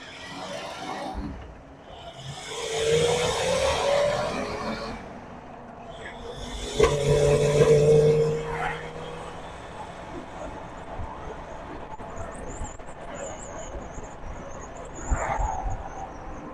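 A carbureted vehicle engine with a rough, reluctant idle and a tendency to flood rumbles nearby, swelling through two revving surges before settling into a lower, steadier idle, with occasional faint voices.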